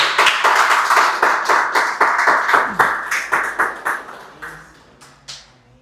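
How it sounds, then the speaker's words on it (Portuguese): A church congregation claps hands in rhythm for several seconds, a steady train of loud, even claps that slow and thin out toward the end. "E vamos bater umas palmas para Jesus."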